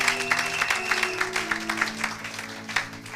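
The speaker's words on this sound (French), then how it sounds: "Acclamez pour la gloire de notre Dieu et de notre Seigneur." A church congregation at a Sunday service claps steadily in a dense, lively patter, with singing or tones from the service carrying underneath.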